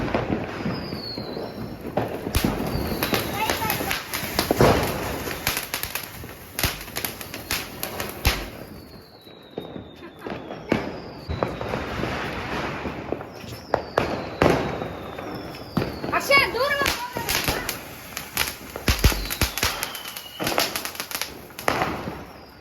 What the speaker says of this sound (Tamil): இது ஃப்ளவர் பாட் மாதிரி தான் ஆக்சுவலா